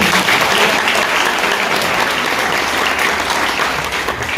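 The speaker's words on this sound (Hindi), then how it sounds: "अच्छा जोरदार ताली हो जाए सर" A crowd at a motivational talk breaks into loud, sustained applause, dense clapping from many hands that holds steady and eases slightly toward the end.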